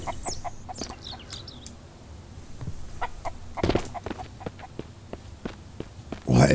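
Chickens in a survival video game cluck and squawk in scattered bursts close by, mixed with soft footsteps and a sudden louder rustle at the end.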